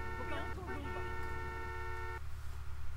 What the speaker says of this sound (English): People not realize I'm honking my horn.